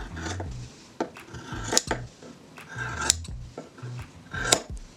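Scissors snipping through satin fabric folded in half several times, a series of short crisp cuts and rustling fabric close up, with no voices.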